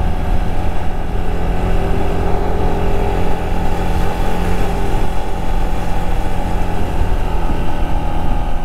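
A 125cc motorcycle climbing a steep turning hill road between Siliguri and Mirik in second gear, its engine droning loud, close and constant with a steady labouring note.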